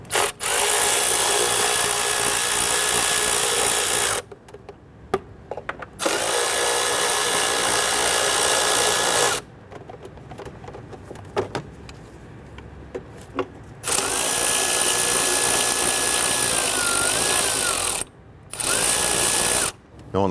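A power tool runs up and spins out four 10mm engine cover bolts on a 2011-2017 Nissan Quest 3.5L V6, in several sustained whirring bursts of a few seconds each, separated by short pauses with faint clicks.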